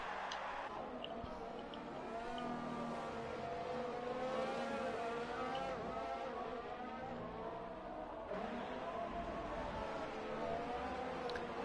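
Formula racing cars battle on track in a racing video game, with several high-pitched engines whining and shifting pitch together in a continuous, dense roar for the whole stretch.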